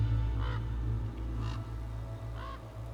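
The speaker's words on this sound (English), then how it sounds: "And there's crows, but this time they're real. And they're flapping away." Crows caw in a video game forest level of Monument Valley 2, giving three short, moderately loud calls spaced about a second apart over a steady low game-music drone.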